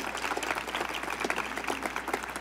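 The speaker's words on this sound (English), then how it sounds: "yes, round of applause for our Congresswoman" A crowd applauds Congresswoman Susan Davis at a library dome topping-out ceremony, with a moderate wash of clapping and some murmuring voices mixed in.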